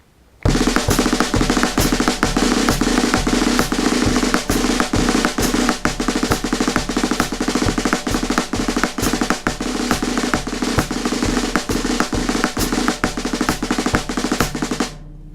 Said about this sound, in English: that's the little drill we have worked out for the 5-stroke roll